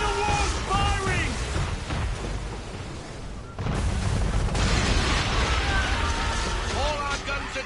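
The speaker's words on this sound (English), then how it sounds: "Careful, Captain. We're under attack! Man of war's firing!" Cannon fire and explosions from a man-of-war warship in the Assassin's Creed 3 game, heavy booms and rumbling blasts over a continuous loud din, with voices shouting over the battle.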